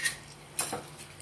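Metal utensils clink and scrape against a pan as fried banana martabak with chocolate is lifted out, two or three light taps and scrapes, close and quiet.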